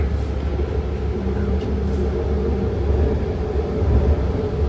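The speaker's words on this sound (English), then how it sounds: "Here we are pulling into Bayfair Station." A six-car BART train pulls into Bayfair Station, heard from inside as a steady, close rumble of wheels and motors with a faint high whine that stays fairly even throughout.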